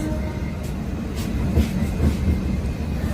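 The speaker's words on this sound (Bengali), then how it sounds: "শালিমার থেকে ছেড়ে দিল করমণ্ডল এক্সপ্রেস" A steady low rumble of the Coromandel Express rolling along after departing Shalimar station, with faint rhythmic clatter and occasional higher squeaks, no voices.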